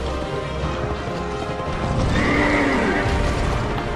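Horses neigh and whinny loudly in the Dark Souls 2 video game, a continuous dense burst of game audio with clattering and crashing mixed in, no talk over it.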